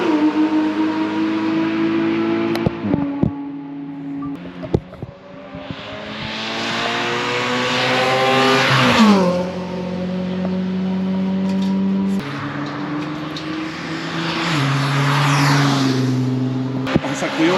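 At a supercar track day, Porsche GT3 RS, Lamborghini Huracán and track-spec BMW cars roar past a corner one after another, loud engines revving, downshifting and accelerating away, with brief talk nearby.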